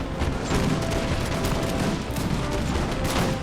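Massed musket volleys in an Empire: Total War battle set in the American Revolution, dense overlapping gunfire crackling continuously and loudly for a few seconds.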